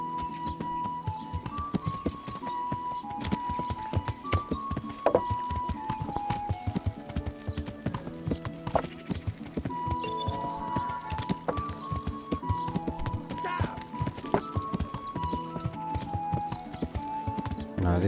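Steady clip-clop of horse hooves in the video game Kingdom Come: Deliverance, over a bed of game music, with a brief whinny partway through; no talking.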